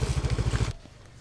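A rented motorbike on a rough road in Thailand, a quick pulsing engine putter with rattling for most of the moment before it cuts off abruptly into quiet.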